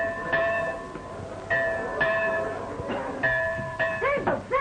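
A bell rings in steady repeated strokes, each ringing tone overlapping the next, fairly loud against a quiet room background in a 1935 film scene.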